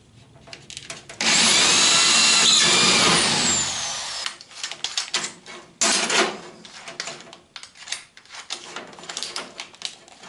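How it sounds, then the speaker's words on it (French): A power drill bores holes through sheet metal on a Citroën Traction 11B car body, a loud sustained whine for a few seconds followed by shorter bursts of drilling and metallic clatter, close up with no speech. "je perce les trous dans la tôle"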